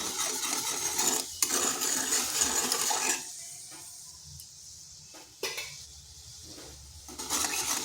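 Salt is stirred into water in a metal wok, with a spoon scraping and clinking against the pan in close, rhythmic bursts separated by short pauses. No one speaks.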